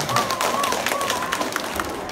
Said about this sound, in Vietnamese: Có thôi, vỗ tay để nhớ đi ha.